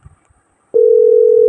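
A steady single telephone tone sounds loudly and continuously after a brief quiet pause with faint rustling, heard while a call to a friend is being placed.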